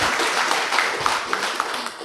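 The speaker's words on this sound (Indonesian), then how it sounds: "Tepuk tangan." Applause from an audience at a cooperative savings and loan (KSP) 2024 budget ratification meeting in Semarang, a dense, fairly steady patter of clapping with a few sharper claps standing out, lasting about two seconds.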